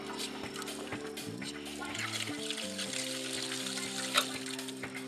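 Water flows from a valve on an RV hot water tank as it pressurizes, a faint, continuous trickle and splash with a low steady hum underneath.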